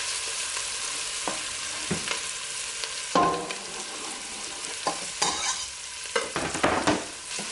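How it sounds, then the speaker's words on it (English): A spoon scrapes and stirs through a soup pot for a lasagna-style soup, with irregular knocks and scraping strokes over a soft steady sizzle, close and moderately loud, with no talking. "Going to stir this for about 30 seconds or so"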